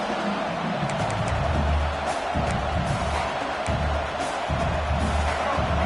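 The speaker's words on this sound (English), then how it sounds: "Listen to this crowd just shaking the girders of this place, trying to help their defense" A stadium crowd roars at a Michigan football game, a dense loud wall of cheering that swells and holds steady across the whole stretch, with faint talk underneath.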